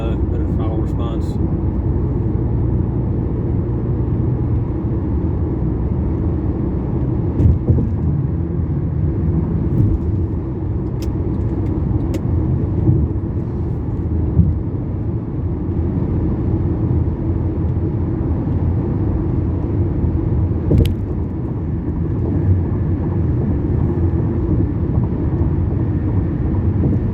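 A 2011 E350 wagon driven in sport mode gives a steady, loud low engine and road rumble heard from the cabin for nearly half a minute, with only a few faint clicks breaking the constant drone.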